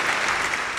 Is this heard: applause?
yes